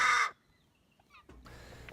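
A Hawaiian crow (alala) released into a natural area reserve gives a single harsh caw up close, followed by quieter rustling and a faint outdoor background.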